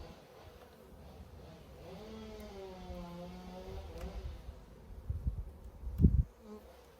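Bees buzz inside an opened beehive, a soft steady drone with wavering pitch close by, joined by a few low thumps and handling knocks near the end.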